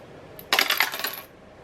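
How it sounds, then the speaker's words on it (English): A single die is rolled for a savings challenge, a brief bright clatter of bouncing and settling that lasts under a second, close and fairly quiet with no talking. "we're gonna roll 1 dice here"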